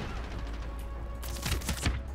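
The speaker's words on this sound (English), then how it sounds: "Oh, shotgun got me." Shotgun blasts in the video game Medal of Honor: Warfighter, a few sharp booming shots in quick succession near the end of a brief stretch of game noise.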